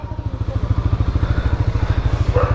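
A scooter engine runs close by at a steady idle, its rapid, even putter pulsing loud and low with no talking over it.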